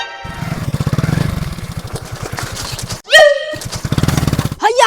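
A motorcycle engine putters past on a road, its pulsing drone loud and close before it fades, followed by shouting voices.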